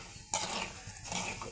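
Urad dal dry-roasting in a pan until golden for a dried red chili chutney, stirred steadily with continuous scraping and light rattling, close and moderately loud.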